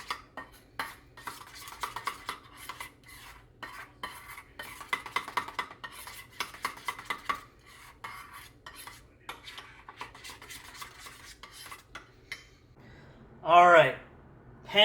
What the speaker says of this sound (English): we just incorporate it all in, we mix it up nicely